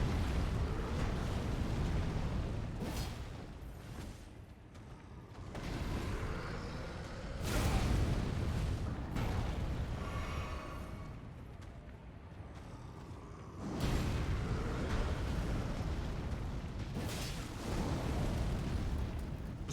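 Flaming sword fire attacks in the video game Elden Ring, a run of heavy roaring bursts and booming whooshes that swell and fade in waves throughout.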